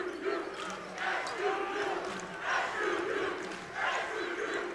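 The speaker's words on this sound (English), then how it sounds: "Crowd the loudest they've been tonight." College basketball crowd at a Montana versus Southern Utah game cheering loudly in surging waves, a dense roar that rises and falls under faint commentary.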